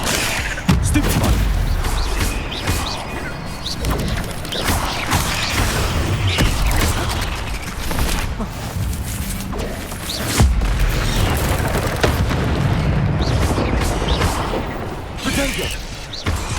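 Stupefy spells cast in Hogwarts Legacy combat, sharp bursts and booming impacts in a busy, loud stream of battle effects, with a voice calling out spell names over them.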